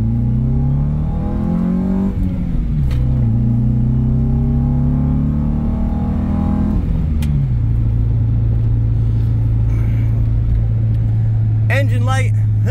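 A Honda CR-V engine starting rough, a low steady idle rumble with uneven pitch shifts early on, close and loud, with a short burst of other noise near the end.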